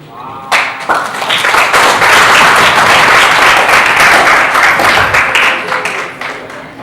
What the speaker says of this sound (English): Round of applause for our patient.